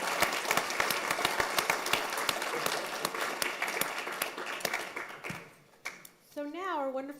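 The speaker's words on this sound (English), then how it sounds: "let's give one big round of applause for all of our outstanding competition teams." Loud sustained applause from an audience at a university data science business plan competition, with sharp individual claps, fading out near the end as a tonal chime sounds.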